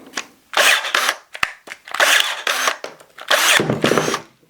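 A DeWalt cordless pruner cuts a one-inch branch in several bursts of motor whir and blade crunch, with short pauses between squeezes and a sharp snap near the start, loud and close.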